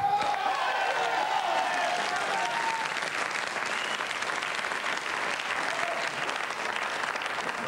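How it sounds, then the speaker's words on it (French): Sustained audience applause during a French comedy show, a dense wash of clapping from a crowd with faint cheering, steady and loud for the whole stretch. "On applaudit Thomas."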